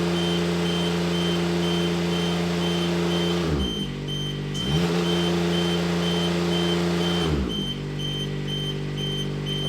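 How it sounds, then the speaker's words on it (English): A steady electronic motion alarm beeps continuously over the running engine of a Niftylift TD120TN / TD34TN lift with a high-rev fault, dropping out briefly twice as the engine note shifts. "I have a motion alarm"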